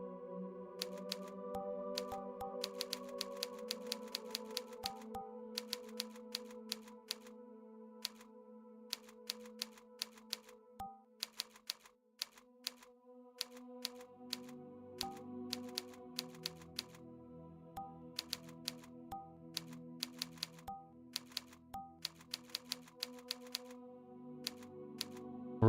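Rapid clicking of computer keyboard typing during a Unity C# game programming session, steady bursts of sharp keystrokes over a soft background hum, with no talk.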